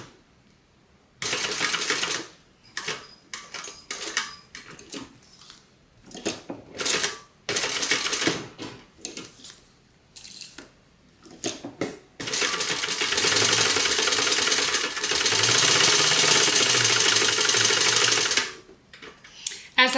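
A sewing machine stitches bag handles and straps, running in short bursts with pauses between them, then a long, steady run of rapid needle clatter close to the microphone.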